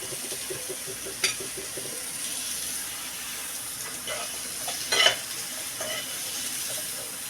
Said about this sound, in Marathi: त्याच्यातच आपण आता कांदा भाजून घेणार आहोत